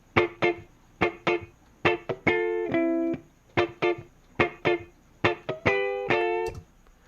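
A guitar amp captured by six U87 room microphones, playing distorted power-chord stabs in a rhythmic pattern with short choppy hits and a few sustained chords, loud and fairly close with a roomy character.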